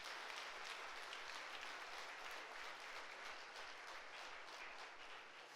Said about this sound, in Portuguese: Se você sentir vontade de aplaudir, pode aplaudir.